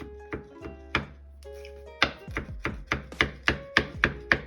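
A knife cross-chops a few stems of fresh cilantro on a cutting board: crisp, close thunks, at first irregular and sparse, then settling into a fast steady rhythm of about a dozen evenly spaced strikes, with no talking.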